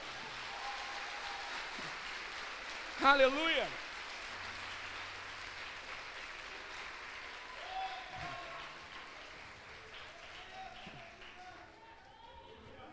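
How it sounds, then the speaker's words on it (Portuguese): Applause from a congregation in a church service, a soft, distant and sustained clapping wash running throughout under a voice calling out and other scattered voices, with a louder burst of voices near the start. "Se é para Jesus, você pode aplaudir a Ele com ousadia"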